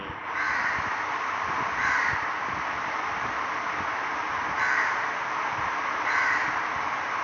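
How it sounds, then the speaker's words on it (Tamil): Crows caw repeatedly from a moderate distance over a steady hiss of wind and outdoor ambience, with several louder bursts of calls spaced a few seconds apart. "எந்த எண்ணமுமின்றி தன்னுள்ளிருந்து வெளிப்படுத்துகின்ற அந்த பறவைகளின் குரல் ஓசை"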